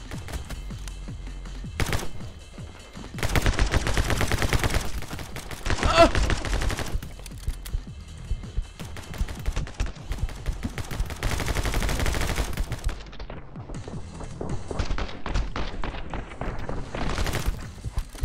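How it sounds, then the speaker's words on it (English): Two Uzis firing in a video game: long, rapid bursts of loud automatic gunfire that stop and start, with several sustained volleys and short gaps between them. "Oh my god, two Uzis."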